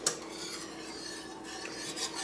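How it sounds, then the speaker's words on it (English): A whisk scrapes and clinks quickly against a metal pan while stirring gravy to work out lumps, a busy rhythmic metallic rattle with a few sharper taps, close and moderately loud, with no voices. "I'm going to whisk that a little bit because I want to make sure I get some of those little lumps from the other gravy out"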